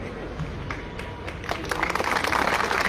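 Crowd applause at a protest rally, a rising wash of clapping that grows louder and denser over a few seconds, with talk mixed in beneath.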